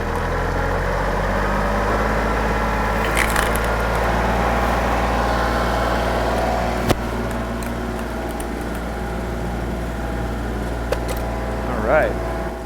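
A tractor engine is throttled up to power a RuggedMade three-point hitch log splitter, holding a steady low drone throughout with a few brief clanks and knocks on top.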